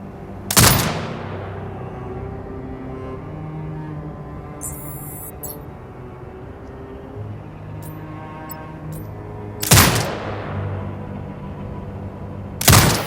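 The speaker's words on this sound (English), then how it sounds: "Exit binocular mode and command the turret to fire." A mounted turret firing at hostiles in Sniper Ghost Warrior Contracts 2, three loud, widely spaced booming shots, each with a long fading tail, over a quiet ambient drone.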